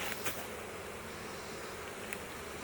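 Honeybees moved into full-size hive boxes give off a steady, moderately close buzzing hum. It runs through the whole stretch with a few brief louder swells and no talking.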